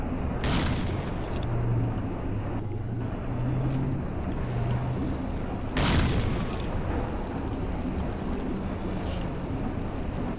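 A grenade blast and gunfire in S.T.A.L.K.E.R.: Shadow of Chernobyl, with two sharp booming bursts over a constant rumbling combat background.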